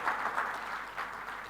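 A round of applause at a gala dinner, fairly faint and distant, a soft steady wash of clapping from the audience.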